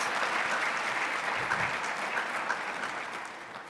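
An audience at an honour society new member recognition ceremony claps steadily, a full even wash of applause that slowly eases off in loudness toward the end, with no voices over it.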